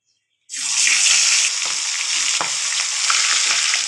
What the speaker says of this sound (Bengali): কাতলা মাছের মাথা আমি এখন ভেজে নেবো।